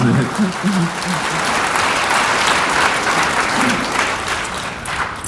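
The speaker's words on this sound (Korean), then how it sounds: "따뜻한 박수 부탁드립니다." An audience at a book concert claps warmly, a full continuous round of applause filling the room, with a voice briefly heard at the start and again near the end.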